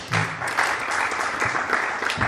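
Audience applause at a gospel arts gathering, a dense steady clatter of many hands clapping throughout, loud and continuous with no talk.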